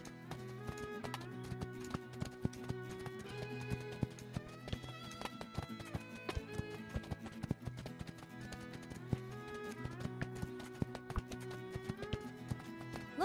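Horse hooves clip-clop rapidly at a gallop in the Spirit Lucky's Big Adventure video game, a busy rhythmic patter of hoofbeats layered over steady tonal game music throughout.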